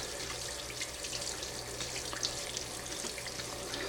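Tap water runs steadily into a sink while a scorched pot is washed, a close, continuous splashing hiss with occasional clinks and sloshes.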